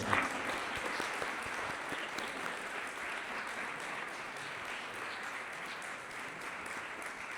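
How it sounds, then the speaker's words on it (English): An audience gives panel guests at a public discussion on Gaza and Israel a sustained round of applause, dense and steady throughout, with no voices rising above the clapping. "Let's give them one more round of applause"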